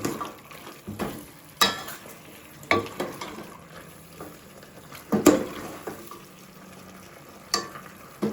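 A spoon scrapes and knocks in a pot while pork trotters and large intestines are stirred, with irregular clanks and stirring sounds over a quiet simmer.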